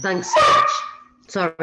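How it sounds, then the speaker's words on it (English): A dog barks twice nearby, sharp yappy calls mixed with a person speaking briefly at the same time. "that's the dog saying hello."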